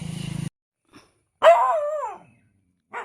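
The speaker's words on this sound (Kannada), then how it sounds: "ಇಲ್ಲೊಂದು ನಾಯಿ ಇದೆ, ನನಗೆ ಜೋರು ಮಾಡ್ತಾ ಇದೆ" A dog barks at a person outdoors near a family house: one loud, close, drawn-out bark with a whining, falling tail, then brief quiet and a short follow-up yap.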